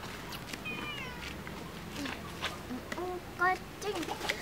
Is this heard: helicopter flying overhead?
no